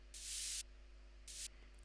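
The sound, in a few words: white noise effect in FL Studio moombahton track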